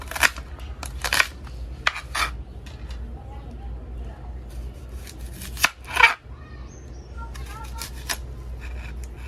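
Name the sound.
chopping onions with a pull-string food chopper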